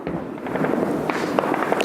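Scattered faint cracks of far-off India-Pakistan ground fire come through a dense, steady background rumble, irregular and overlapping, with no voices.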